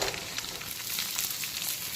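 Black cumin seeds, bay leaf and chopped onion frying in oil, a dense continuous crackling sizzle with faint popping, close and steady without any talk.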